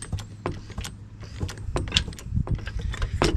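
A 1981 GMC truck is jacked up by its lower control arm, with a run of repeated metallic clicks and clanks from the jack working at close range.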